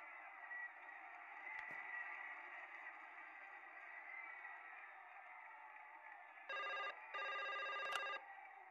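A telephone in the video game Broken Sword 5 rings in two short electronic bursts over a steady hum of background noise, fairly quiet overall.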